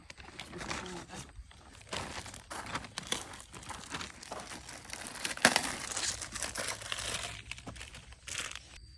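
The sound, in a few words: crumbling mushroom spawn blocks by hand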